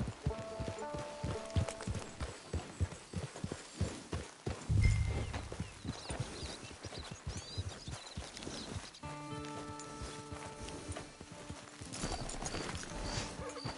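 Horse hooves clip-clop in Red Dead Redemption 2, a run of rhythmic hoofbeats over a musical score, with one heavier thump midway and the steps fading into the music.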